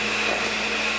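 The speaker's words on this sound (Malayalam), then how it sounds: "ഇതിലേക്ക് ഉപ്പ് കൂടി ചേർത്ത് ബീറ്റ് ചെയ്ത് കൊടുക്കാം." A steady, continuous electric whine of a hand mixer beating sponge cake batter with salt added, holding even and fairly loud throughout with no pauses or talk.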